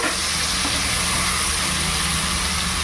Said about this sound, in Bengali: কাজু আর রসুন দিয়ে দিচ্ছি, আর দিয়ে দিচ্ছি এই যে লঙ্কা। সব কিছু হালকা করে একটু ভেজে নিচ্ছি